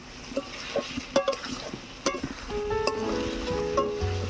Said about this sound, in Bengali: আলু কষানো হয়ে গিয়েছে